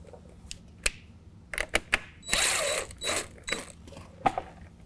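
Loosening a 10mm nut with pliers gripping the stud on a Ford F-150 grille: a few sharp metallic clicks and taps, then a longer scraping rasp, close and moderately loud, with no talking.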